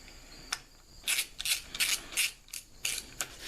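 Screws being driven into a Harley-Davidson Dyna handgrip give a run of quick ratcheting clicks in short bursts, close and fairly quiet, with no talk.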